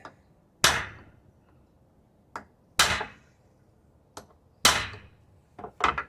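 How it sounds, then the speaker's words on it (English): Sharp metallic hammer blows tapping a cap onto an Evinrude/Johnson 9.9 or 15 HP outboard carburetor, five or six spaced strikes with brief ringing decay, close and distinct against a quiet background. "I'm gonna use one of these that goes here on top and I'm gonna hammer it"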